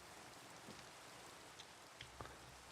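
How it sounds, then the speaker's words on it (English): Steady hiss of rain falling in Minecraft, a constant wash of drops with a few soft taps standing out, quiet and with no voices. "Make it day. Stop the rain."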